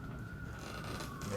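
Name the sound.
emergency vehicle sirens outside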